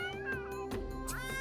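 A cat meows repeatedly in The Sims 3 game, a quick run of close, clear mewing calls with no talk over them.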